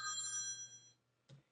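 A BlackBerry Storm phone gives a bright electronic ring tone that sustains for about a second, then stops, followed by a brief soft tap, in a quiet room.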